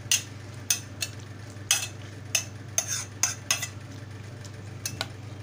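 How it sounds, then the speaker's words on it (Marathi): Spoon stirring yogurt into a Malvani-style cucumber salad in a bowl, a series of sharp close clinks and scrapes at an uneven rhythm over a low steady hum, with no talking. "आता मिश्रण छान एकजीव करून घ्यायचं आहे आपण"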